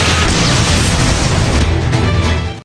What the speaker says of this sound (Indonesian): Mikasa Ackerman datang membantu Eren dan melemparkan 8 tombak petir ke tengkuk Warhammer Titan dan boom, meletup gitu loh